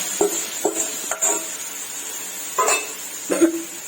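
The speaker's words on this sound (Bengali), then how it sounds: "ফোড়ন ভাজা হয়ে গেছে। এবার এতে আমি মশলা দিয়ে দিচ্ছি।" Several distinct scraping stirs in a pan as ground spices are added to tempered whole spices, irregularly spaced, over a soft continuous sizzle of frying.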